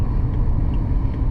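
A Ford FG Falcon XT sedan driving, a steady low road rumble and engine hum filling the cabin with no breaks, moderately loud and continuous throughout.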